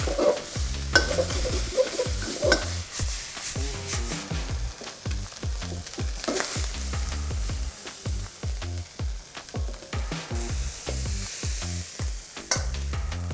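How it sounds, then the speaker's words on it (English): Green beans are stir-fried with coriander in a pan, sizzling under a run of repeated scraping and tossing strokes, loud and close, with no talking. "You see that dry fry coming out perfectly well"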